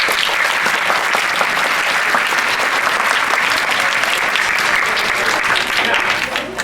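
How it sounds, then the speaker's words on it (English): A school concert audience gives a loud, sustained round of applause for the chorus and string players, dense clapping from many hands filling the hall without pause. "can we please give our chorus and our string players another round of applause?"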